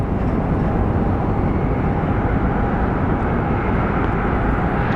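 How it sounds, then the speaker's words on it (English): An American Airlines jet arriving at Phoenix Sky Harbor airport produces a steady, loud broadband rumble of engine noise, sustained throughout without pause. "here comes our American Airlines from Hawaii"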